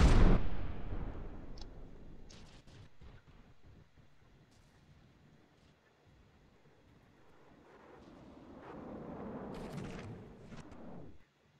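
Ship guns firing in a naval battle video game, USS Solaire against Charles Victor: a loud opening boom decaying into rumble, scattered distant thuds, then a second swelling rumble of fire.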